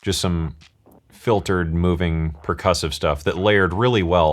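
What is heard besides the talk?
No distinct noise like a dog, phone or traffic.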